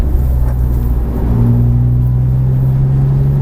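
Porsche 997 GT3 at full throttle on a circuit, a loud close engine roar with a rising pitch held steady, heard from inside the car.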